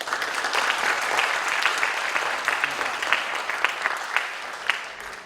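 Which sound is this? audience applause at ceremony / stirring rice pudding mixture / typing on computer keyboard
audience applause at ceremony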